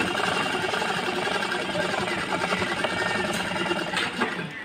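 A sewing machine stitches tucks into a blouse, its motor humming loud and close with a rapid, even needle chatter that runs without pause from start to finish.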